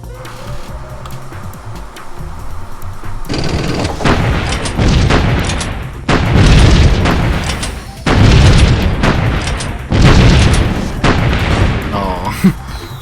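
Artillery in a turn-based strategy game firing in repeated heavy booms, four loud blasts spaced about two seconds apart after a quieter opening with music and a voice, each followed by a rumbling decay.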